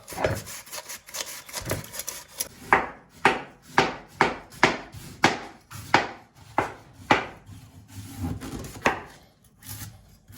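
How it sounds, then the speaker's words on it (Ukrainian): Cabbage is shredded with a knife on a cutting board for sauerkraut: a close series of about a dozen rhythmic crunchy slicing strokes, steady and fairly loud, with no talk. "і шаткуємо нашу капусточку"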